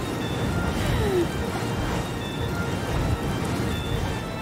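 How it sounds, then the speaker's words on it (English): Steady rain hiss in a video game storm with low rolling thunder swelling underneath, continuous and moderately faint throughout. "Oh, this sounds like it's a longer storm."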